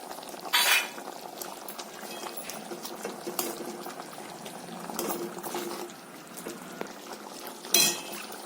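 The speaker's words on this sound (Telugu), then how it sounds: "ఉల్లిపాయలు అన్నీ కలిపి చక్కగా ఉడుకుతున్నాయి" Taro and onion stew with curry leaves and green chillies bubbling in a pot, a soft continuous simmer with a few sharper clinks, no talking.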